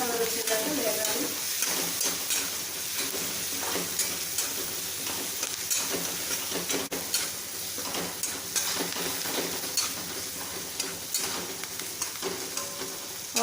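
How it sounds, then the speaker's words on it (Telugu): Onions, green chillies and curry leaves sizzle and fry in a pan, a steady close hiss broken by scraping stirs, with brief voice in the background. "ఆనియన్స్, పచ్చిమిరపకాయలు, కరివేపాకు బ్రౌన్ కలర్ వచ్చాయి"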